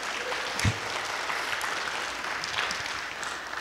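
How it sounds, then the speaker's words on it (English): Applause from the audience at a music studio's spring recital, honoring a student's achievements: an even, moderately quiet wash of clapping heard from a distance and continuing throughout. "That deserves a round of applause."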